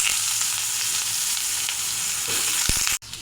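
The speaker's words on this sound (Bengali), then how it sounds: "এবার বেগুনগুলো ভেজে নেব।" Eggplant pieces sizzle in hot mustard oil, a loud, even crackling hiss close by, with a few soft knocks of stirring near the end.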